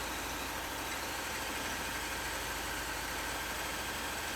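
A power drill bores through a small high-strength steel bracket in the door post of a 2017 Terrain Denali under rebuild, giving a steady, unbroken motor whine and grinding hum at close range with no pauses.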